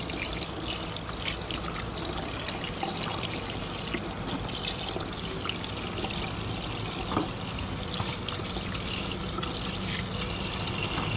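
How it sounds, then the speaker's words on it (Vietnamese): Tap water running steadily while a pork hock is rinsed in a sink, a constant close splashing rush with small irregular spatters, no talking. "bây giờ em sẽ rửa lại bằng nước nha cả nhà, cho cục thịt của mình nó sạch nè"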